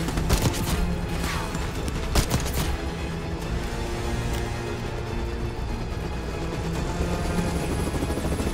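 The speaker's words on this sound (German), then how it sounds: "Also den Helikopter nicht rechtzeitig erreicht." Helicopter rotor thudding steadily and loudly throughout a Call of Duty Black Ops 6 campaign scene, with a couple of sharp crashing impacts near the start and a dense game soundscape behind it.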